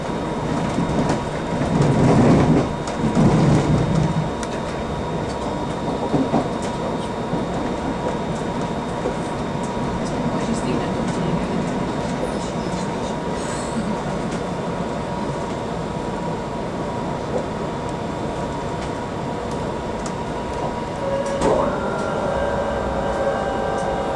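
Onboard an SPT Class 334 electric train (unit 334021) running near Hamilton Central, a steady loud rumble of wheels and motors with a brief louder burst early on and a faint electronic tone near the end, no talk.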